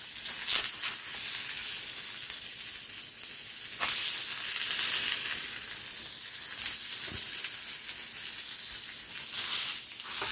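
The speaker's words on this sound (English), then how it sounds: "It's sizzling away." Steady, loud sizzling of seaweed-crusted salmon frying in a hot Blue Diamond pan, a constant crackling hiss with occasional sharper pops, with no talking.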